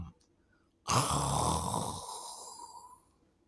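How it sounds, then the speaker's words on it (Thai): A tiger in a Thai audio drama gives one low, breathy growl out of near silence. It swells suddenly, holds for about two seconds, then trails off. "เสียงคำรามต่ำดังออกมาจากในเงามืด"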